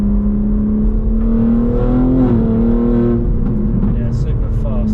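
Stage 2 BMW G81 M3 with a custom exhaust pulls hard in third gear, its engine note rising steadily and loud up close with a strong resonant drone, while a voice talks over it.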